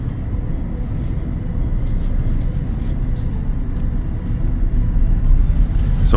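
A car accelerates onto a highway during a driving practice session, a steady low engine rumble and road roar from inside the cabin, building slightly in loudness toward the end, with no talking.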